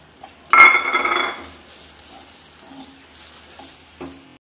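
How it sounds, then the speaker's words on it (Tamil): Grated coconut roasting and being stirred in a pan over a low flame, a loud scraping sizzle in the first second that fades to quieter intermittent stirring and a clink near the end. "இப்போ இந்த தேங்காயை சேர்த்துக்கலாம். நம்ம சிம்மிலே வச்சு வறுத்துக்குங்க."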